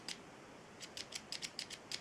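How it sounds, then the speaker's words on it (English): Small dressmaking snippets, a spring-handled alternative to scissors, snip repeatedly in short crisp clicks, a single cut followed after a pause by a quick irregular run of about eight close, fairly quiet snips. "Snippets, these are called, rather than scissors"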